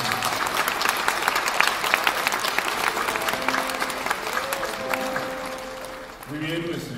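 An audience at a rondalla concert applauds with a steady wash of clapping. A voice speaks over the clapping partway through, and talk resumes as the applause thins.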